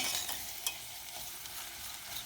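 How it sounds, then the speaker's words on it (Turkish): Spinach roots and homemade tomato paste stir-fry in a pan, a soft continuous sizzle broken by light scraping stirs, close and fairly quiet. "Şöyle birlikte kavuruyoruz."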